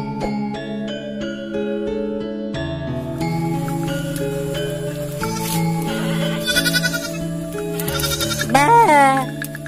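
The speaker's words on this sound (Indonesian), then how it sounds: "Ini kambing si Noh." A goat bleats repeatedly over a steady droning instrumental music bed, the calls rising and wavering loudly near the end, on a hillside in Sunda.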